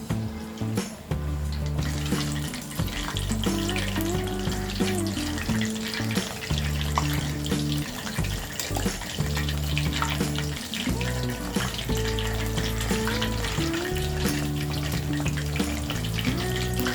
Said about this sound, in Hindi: हम ये सारे सोया चंक्स को 2-3 बैचेस में फ्राई करेंगे